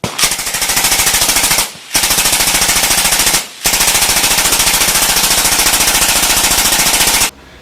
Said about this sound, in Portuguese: haverá disparos sucessivos, assim caracterizando uma arma automática